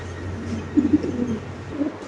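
At a pigeon farm, a male pigeon coos in a few soft, low, throaty bursts, with a quieter coo following a moment later.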